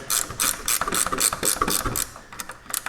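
A ratchet tightens bolts on garage door hardware, making quick, close, rhythmic clicking strokes over three seconds with no talking.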